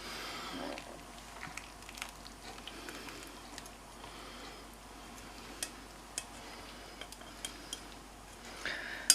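Cutlery scrapes and taps on plates while a roast pork joint is dished up with potatoes, carrots and Yorkshire puddings, sparse metallic clinks standing out over a faint kitchen background.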